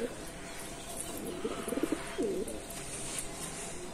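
A spotted dove coos softly several times in a short rhythmic phrase, nearby, over faint outdoor background noise.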